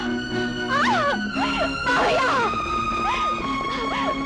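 An ambulance siren in a film scene wails in quick rising and falling sweeps, loud and close, with no voices over it.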